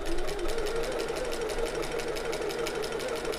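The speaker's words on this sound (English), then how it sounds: "So I'm going to sew with my slightly longer stitch length that I'm using" A domestic sewing machine runs steadily, stitching fabric for a shoulder bag at a slightly longer stitch length; a fast, even mechanical whirr and needle clatter fills the moment without pause.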